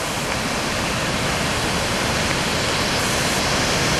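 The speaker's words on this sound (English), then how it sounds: "Just stopped over by an awesome waterfall." A waterfall on a trail up Mount Rainier roars nearby, a dense, loud, unbroken rush of falling water with no voices.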